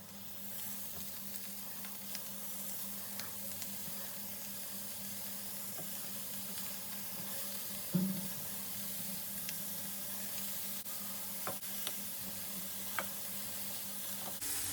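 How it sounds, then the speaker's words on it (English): Chicken pieces with mushrooms, onions and zucchini sizzling on a grill, a steady close hiss with occasional small pops and crackles, no voices. "Put the meat and the vegetables on it."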